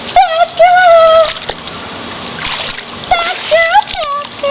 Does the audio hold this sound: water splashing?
yes